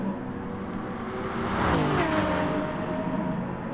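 Race car engines from a Lexus and a BMW in Gran Turismo Sport drone steadily, swelling as a car closes in and passes near the midpoint, a sustained mechanical roar with no talk.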